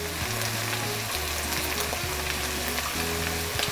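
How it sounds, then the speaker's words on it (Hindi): Spices fry in oil in a pan for aloo keema, a dense, continuous sizzle with a low steady hum underneath, close and fairly loud. "हमने मसालों को जलाना नहीं है बल्कि पकाना है 30-40 सेकंड्स तक"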